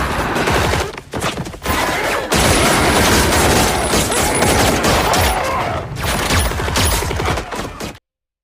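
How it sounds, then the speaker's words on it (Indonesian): A film action scene in which armed men open fire on a group, heard as a loud, dense, sustained barrage of rapid gunfire with brief pauses, filling nearly the entire clip before cutting off abruptly. "Otto dan yang lainnya muncul menembak kelompok Justice dengan tembakan beruntun"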